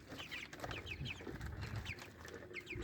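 Chickens and ducks kept on a rooftop cluck repeatedly in short bursts, close and fairly loud, over a steady outdoor background with no talking.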